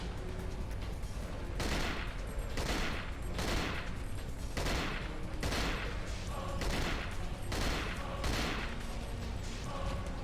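Bursts of gunfire in the video game Cold Fear crack out in a fast, regular series of loud shots, roughly one every second, with mechanical clatter between them.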